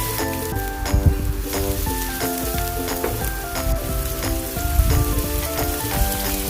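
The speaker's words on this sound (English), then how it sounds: "Now let's saute the garlic in a hot pan. Add a small amount of cooking oil, quick stir, and add the onion." Garlic and onion sautéing in a little hot oil in a pan: a steady crackling sizzle with light stirring, running under tonal background music.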